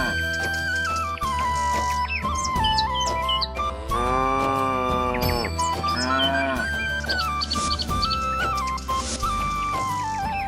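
Cattle moo loudly twice in long, drawn-out calls near the microphone, with birds chirping around them and steady background music underneath.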